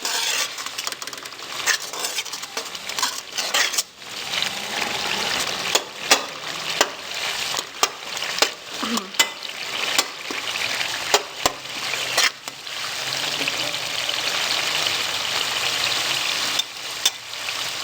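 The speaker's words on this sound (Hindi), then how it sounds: "थोड़ा सा हमने पानी ऐड कर लेना है और इसको हमने 6 से 7 मिनट के लिए भूनना है, हल्की आंच पे" Masala roasting in a pan over low heat with a splash of water added, a steady close sizzle broken by frequent scrapes and clinks as a spoon stirs against the metal, with no voices.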